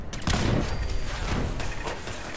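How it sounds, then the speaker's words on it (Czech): Gunfire in the Fallout 4 video game sounds as a dense, rapid burst of loud shots that keeps going for the whole stretch, close and harsh, with no voices over it. "Někdo tady střílí?"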